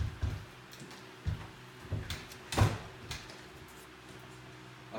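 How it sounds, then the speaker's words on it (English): A door is shut in a quiet indoor space, with several light knocks and clunks before one louder thud near the middle, then a short trailing rattle. "You know how many ways there is to close the door?"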